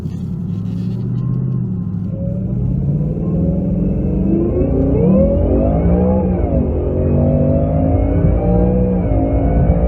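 A Whipple-supercharged 750 hp 2018 Mustang GT accelerates hard on a street, its engine note rising steadily in a loud, continuous rumbling drone heard from inside the car, with a brief dip and climb mid-run.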